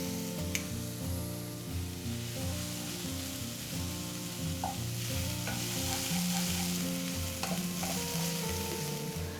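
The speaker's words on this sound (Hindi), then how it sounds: "अब मैं इन प्याजों को तब तक भूनूंगी जब तक ये अच्छे ब्राउन कलर के ना हो जाएं" Onions frying in a pan with ginger garlic paste for mushroom do pyaza, a steady close sizzle with occasional spoon stirring and scraping, no talk.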